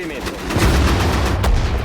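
Gunfire from the Sudden Strike 4 desert war campaign, a dense run of sharp loud shots and rumbling bursts layered over one another, with a player's voice talking over the battle.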